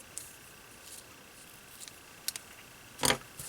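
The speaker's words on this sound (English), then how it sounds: "now let me grab my ribbon scissors. I'm just going to trim those off" Ribbon scissors trim the loose ends of a ribbon bow on a handmade card, giving a few soft, quiet snips spread across the moment, with the last cut sharper and louder, and no talk.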